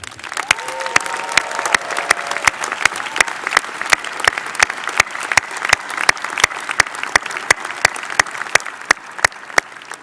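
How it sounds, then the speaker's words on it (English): Audience at a business school graduate commencement claps steadily for family and friends, dense sustained applause from a large crowd filling the hall for about ten seconds. "Let's have a round of applause for your family and friends."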